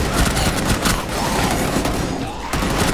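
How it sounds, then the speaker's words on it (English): Rapid video-game gunfire from Operation Outbreak rattles in dense, overlapping bursts, loud and close, with booming impacts throughout the short stretch and a brief dip before it resumes. "Oh, I keep shooting people!"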